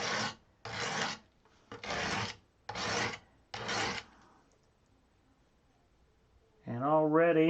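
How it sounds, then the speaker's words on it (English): A steel blade being sharpened on an abrasive grit stone: five steady rasping strokes drawn back and forth at an even pace, close and clear, then a pause before someone speaks. "And already this particular grit is really starting to wear away at that steel."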